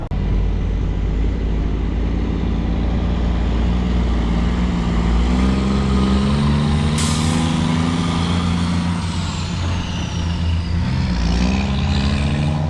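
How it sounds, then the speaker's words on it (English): A semi truck engine runs steadily up close during spring alfalfa planting, a deep continuous diesel drone whose pitch slides upward and back as it revs, with a brief hiss partway through. "I'm going to go and put fuel in this truck"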